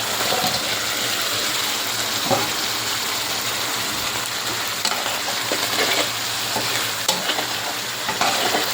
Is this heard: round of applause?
no